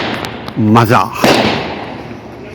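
Diwali firecrackers go off on Devon Avenue, a busy street in Chicago, with a few sharp pops and bursts close by while someone talks over them.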